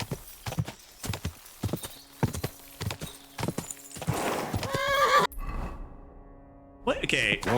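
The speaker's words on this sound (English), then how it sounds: "My horse is freaking out and not following the trail that I tell her to follow." A horse in the medieval video game Kingdom Come: Deliverance 2 clops along with rhythmic hoofbeats, then lets out loud, drawn-out whinnies and snorts near the end, up close and without talk.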